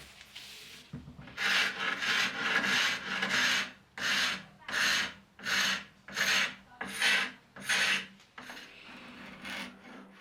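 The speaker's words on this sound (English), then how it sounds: "I'll use my carbide scraper on the curved edges and use a stripper on all of the flat surfaces" A carbide scraper strips old finish from the curved edges of a wooden dresser in a run of about eight rhythmic rasping strokes, close and fairly loud, with no talking.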